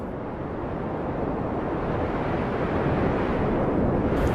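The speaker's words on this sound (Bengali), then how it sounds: "এমন ঝিমঝিম হাওয়া তো ভালো লক্ষণ না।" Eerie cartoon wind blows steadily and fairly loud, a broad continuous whoosh that swells slightly toward the end, with no voices over it.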